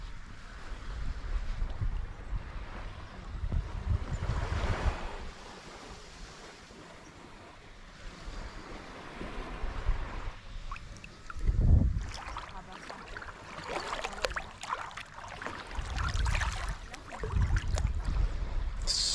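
Calm sea at a Koh Phangan beach laps gently in slow, soft surges close by, with gusts of wind buffeting the microphone in between.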